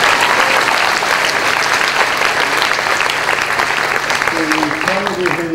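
Dense, steady applause from a lecture audience fills the whole stretch, loud and continuous, with a voice starting to speak over it near the end.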